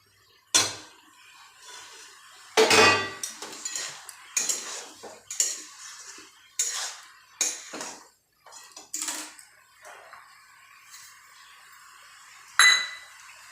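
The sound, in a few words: prawns being added to cooking bottle gourd in pan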